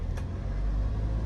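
A manual-transmission car on a driving-school road course gives a steady, close, low engine rumble inside the cabin, with a brief broadband swell near the start and no voices.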